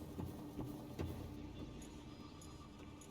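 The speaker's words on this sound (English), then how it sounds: "we can hear machines whirring around in the distance" Distant machines whirring in Subnautica: a constant low mechanical hum with faint rhythmic knocks and a few soft high pings, steady and far off with no talk.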